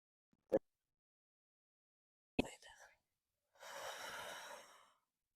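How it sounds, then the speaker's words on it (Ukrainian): Slow deep breaths during a home strengthening workout, a short sharp inhale, then a breathy exhale, and finally a long whooshing exhalation lasting over a second, close and quiet with silence between. "Видих. Ще вдих. Видих. І знову останній п'ятий"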